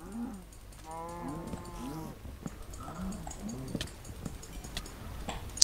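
Cows moo several times in the Minecraft video game, with drawn-out, nasal calls repeating close by over quiet background sounds.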